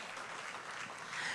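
A church congregation claps together in a steady, continuous patter of applause filling the room, fairly loud and without speech over it.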